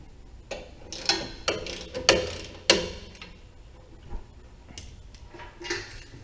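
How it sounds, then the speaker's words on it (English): Ratchet wrench clicking while loosening or tightening a part on a tow truck air horn setup, in a series of sharp, close metallic ratcheting bursts of varying length with short pauses between. "Don't ask me why I like these damn ratchets"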